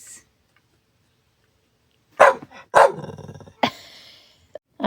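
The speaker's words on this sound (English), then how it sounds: "Don't teach him to bark." A puppy barks and growls close by in a home, two or three sharp bursts followed by a rough growl and a short yip, after a quiet stretch.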